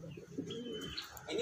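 Champion racing pigeons cooing softly at close range, low throaty coos alone.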